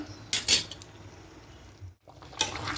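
A lid coming off a pot of chicken curry, heard as a couple of light metallic clinks and scrapes, then a brief pause and another clink of metal against the pot.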